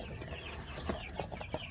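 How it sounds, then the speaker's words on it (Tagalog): Chickens cluck and chatter in a busy mix of short calls, close by, with steady background farmyard noise. "ini siya klase sa manok mga Jiboy"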